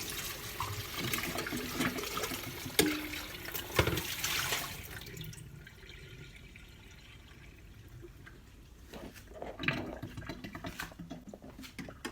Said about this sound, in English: we need to fill the tank again with the clean water